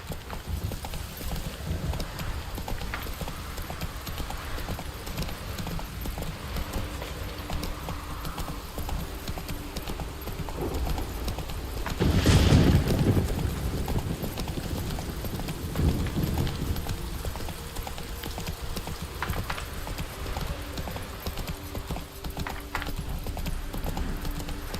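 Roach the horse galloping in the video game The Witcher 3, Blood and Wine expansion: a dense, continuous rumble of hoofbeats under game ambience, with a louder surge about halfway through.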